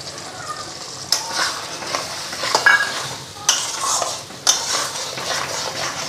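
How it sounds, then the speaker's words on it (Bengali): Spice masala frying and being stirred in a pan for a Bengali curry, with a steady sizzle under repeated scraping stirs and a few sharp utensil knocks against the pan. "মশলাটা হালকা ফ্রাই হোক"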